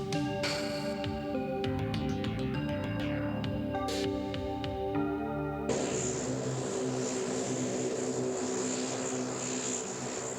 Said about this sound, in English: Heading right for the eye of the storm is NOAA's reconnaissance plane, now within 100 miles of its target